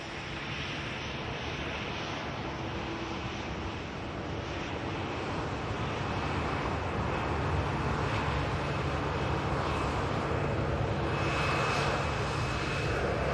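Low-cost jet airliners at Manchester Airport fill the scene with a steady, broad roar that builds slightly in loudness and holds for the whole stretch, with no voices.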